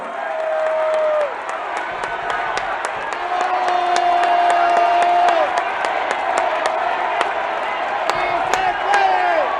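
A crowd at a government welfare programs event in Mapimí, Durango, Mexico applauds and cheers continuously, loud and close, with a few sustained whistles rising above the clapping.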